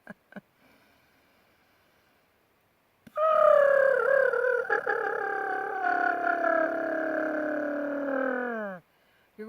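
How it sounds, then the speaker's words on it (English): A lip trill, motorboating buzz on a long exhale during a throat-toning yoga exercise, loud and close, running steadily for about six seconds with a wavering pitch that slowly falls, after a few faint breaths. "as you exhale, you're going to put your lips together and like motorboating"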